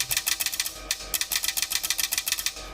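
Quick bursts of sharp mechanical clicking from a car headlight lens shutter relay on a 12-volt high-beam circuit, the clicks coming in rapid rhythmic groups, close and crisp with no talk.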